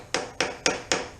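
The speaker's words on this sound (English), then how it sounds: "So we're going to have to hammer that flat spot out" Four sharp metallic hammer strikes, evenly spaced and loud, knock out the flat spot of a lock washer on a nut of a Kawasaki Vulcan motorcycle, each hit ringing briefly before the next.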